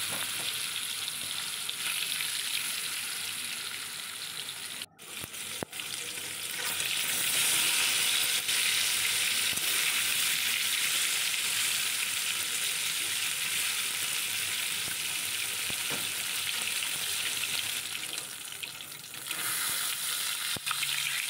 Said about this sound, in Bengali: সর্ষের তেল দিয়ে এক এক করে মাছগুলো তেলের ওপরে দিয়ে দিচ্ছি।